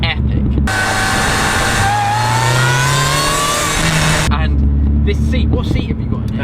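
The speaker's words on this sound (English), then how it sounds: "that supercharger whine is epic" An R53 Mini John Cooper Works gives off a loud supercharger whine that climbs steadily in pitch as the engine revs and accelerates, heard from inside the car over the engine's drone.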